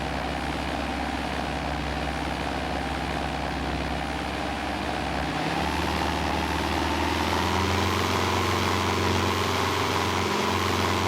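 Aircraft engine sound effect in the X-Plane flight simulator, a steady loud droning hum with a low rumble that shifts slightly midway, continuous and alone without any voices.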